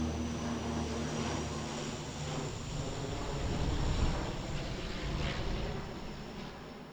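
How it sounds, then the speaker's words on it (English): Steady aircraft engine drone carries across an airfield beside a New Zealand disc golf championship course, a continuous, moderately distant rumble with no voices. "There you can hear some of that airfield background noise"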